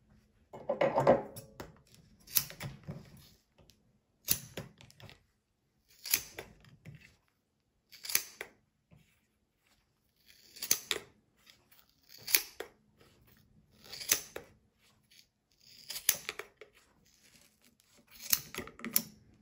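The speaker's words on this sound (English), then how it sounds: "And then I will turn it over and cut the other side." Scissors snipping through a yarn pom pom, a series of about ten close, crisp cuts spaced a second or two apart with quiet gaps between them.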